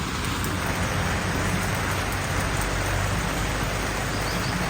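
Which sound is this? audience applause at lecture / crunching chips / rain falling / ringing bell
rain falling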